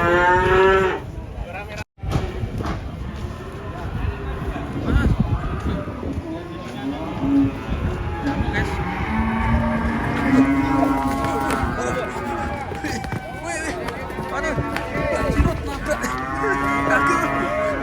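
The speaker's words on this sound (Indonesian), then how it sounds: "biar masuk sapinya" Cattle unloaded from a truck moo loudly and repeatedly as they are herded down, with deep bellows coming one after another over a busy background of people shouting and calling nearby.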